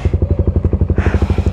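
Kymco Xciting 400i scooter engine, close and loud, with a fast, even pulsing thump that rises slightly in intensity toward the end.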